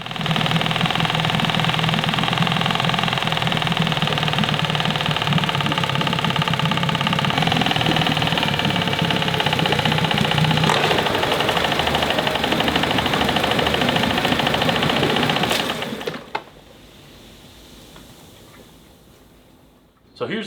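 A project car's engine idling with a steady rough mechanical drone and faint knocking for about fifteen seconds, then it cuts out, leaving quiet background and a brief clunk at the end.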